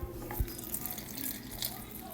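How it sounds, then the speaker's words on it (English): Cold water pours from a tap into a bowl during home cooking, a short steady splashing stream with a brief louder gush near the start, running for a couple of seconds against faint room noise. "And then we're gonna put the cold water in there."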